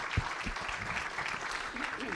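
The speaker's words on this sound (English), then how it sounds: "Please join me in a round of applause for Eric Walsh, our city manager." Audience applause at a Chamber of Commerce infrastructure luncheon for a city manager, brief steady clapping from a room full of people at moderate level, with a few voices mixed in.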